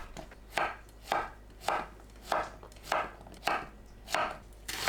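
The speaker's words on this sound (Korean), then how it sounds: "애호박을 4등분하고 1cm 두께로 썰어주세요." A knife chops zucchini on a cutting board in a steady rhythm, about eight even strokes, close and clear with no voices.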